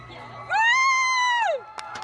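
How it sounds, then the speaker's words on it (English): Students cheer a proposal with one loud, sustained rising-and-falling whoop lasting about a second, followed by a few short sharp calls. "the students cheering them on."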